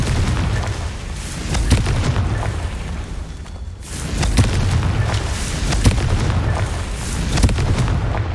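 Repeated booming blasts from the Confringo spell in the video game Hogwarts Legacy, loud and dense over a continuous rumbling bed, with sharp bursts recurring through the stretch and a brief dip near the middle.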